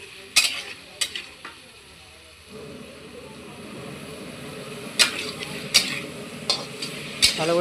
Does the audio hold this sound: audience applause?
no